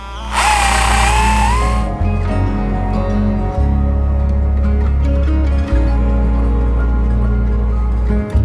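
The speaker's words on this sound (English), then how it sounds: "I'll also drill 1 just about in the middle, just to keep it back." A power drill whines loudly and steadily, its motor pitch shifting in a few stages as it bores a hole through a bathroom wall.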